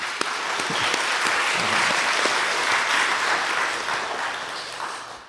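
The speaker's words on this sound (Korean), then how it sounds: "박수 한번 치겠습니다" A church congregation claps steadily together during a service, the applause holding for several seconds before fading out.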